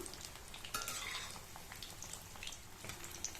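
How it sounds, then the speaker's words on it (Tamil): Banana flower vadas fry in oil over a medium flame with a faint, continuous crackling sizzle and scattered pops, as the vadas are turned one by one. "ஒவ்வொரு வடையாக பரட்டி போட்டுக்கலாம்."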